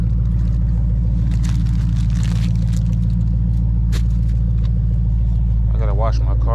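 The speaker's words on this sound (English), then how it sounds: "Letting the charger warm up." A Charger car engine warms up, a loud steady idle rumble close by with a constant low drone, while a person talks over it and a brief whistling sound rises near the end.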